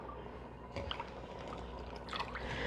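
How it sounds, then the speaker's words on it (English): Water pours and drips from a pot of cooked potatoes as it is drained, a quiet steady splashing trickle that swells briefly partway through and again near the end. "So I'm going to just drain some of the water out of them."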